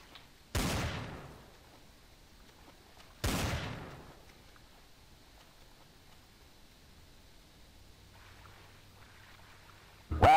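Two loud bursts of video game gunfire, each a sharp blast trailing off over about half a second, spaced a few seconds apart against a quiet background with a faint low hum.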